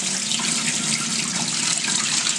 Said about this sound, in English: I can now pour out all of this nasty chicken-laced water